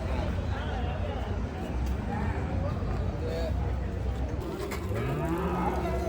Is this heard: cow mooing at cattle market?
yes